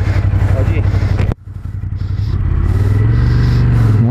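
A Ducati sport motorcycle on the Panamericano race circuit blasts through hard acceleration, its engine note climbing loud and close. It cuts out abruptly for a moment, then the revs build back up strongly.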